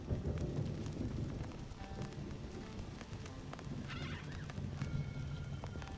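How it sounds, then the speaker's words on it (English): Real thunder rumbles at low volume beneath steady rain, which patters continuously throughout with scattered drops and faint background tones, and no one speaks. "That was real life thunder."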